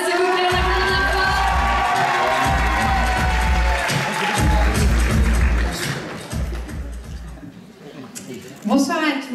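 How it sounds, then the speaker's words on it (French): At a Miss Côte d'Or pageant evening in a theatre, an audience keeps applauding and cheering for candidate number four, with rhythmic stomping or drumming under crowd noise that thins out near the end as a voice begins. "s'il vous plaît, on applaudit bien fort."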